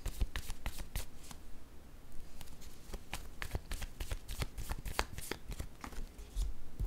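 Tarot cards shuffled by hand in a steady stream of quick, crisp riffles and flicks, close and fairly loud, with no talking.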